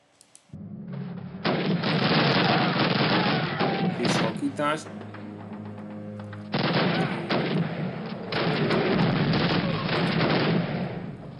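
Heavy gunfire in the Call of Duty Warsaw war campaign, dense and loud bursts of automatic fire and booms filling most of the stretch, with a brief lull before the shooting resumes.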